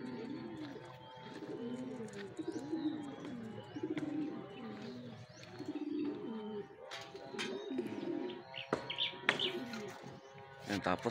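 Racing pigeons coo in low, rolling phrases throughout, with occasional sharper chirps and clicks and some background voices mixed in.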